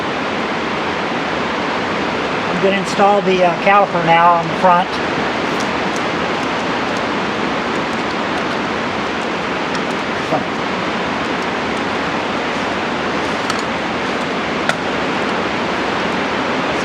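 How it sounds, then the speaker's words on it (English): Heavy rain pounding down outside a garage during a GT3 road race car chassis rebuild: a steady, dense wash of broadband noise throughout, with someone speaking briefly over it and a few small clicks of work. "it's pounded down rain outside"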